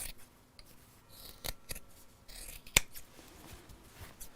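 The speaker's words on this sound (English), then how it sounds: "then we'll trim off the edge a little bit" Scissors snip along the edge of a fabric box bag, a few soft separate cuts with one sharp, close snip standing out against a quiet room.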